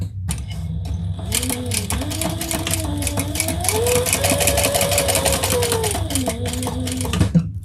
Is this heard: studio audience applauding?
no